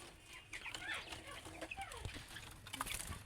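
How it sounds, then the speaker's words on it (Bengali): Several young king quail, six birds about 55 days old kept as pets, call with short chirps and clucking notes scattered over a steady background hum, close by and moderately loud. "এই যে আমার কিং কোয়েল"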